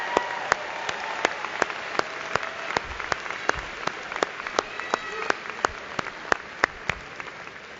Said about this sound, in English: Please join me in a round of applause to congratulate these award recipients